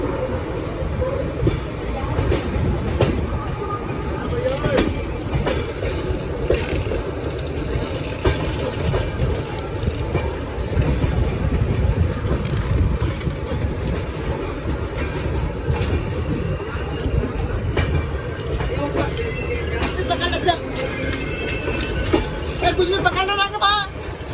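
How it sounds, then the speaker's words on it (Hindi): A Panvel–Gorakhpur Express train rumbles past on the rails at night near Kasara station, a continuous loud rolling clatter with wheel squeals and rhythmic clicks, while a voice talks over it. "ये ट्रेन है पनवेल गोरखपुर एक्सप्रेस। ये फ़िलहाल आ रही है पनवेल की तरफ से।"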